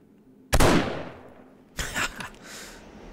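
Two loud gunshots from a marksman rifle in the survival game 7 Days to Die, Alpha 18, the first a sharp crack with a decaying tail, the second about a second later followed by a short echoing rattle.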